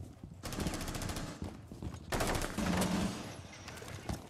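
Rapid shotgun blasts and gunfire crack through a video game firefight, a dense burst of loud shots with brief gaps, then another heavy volley and scattered trailing shots.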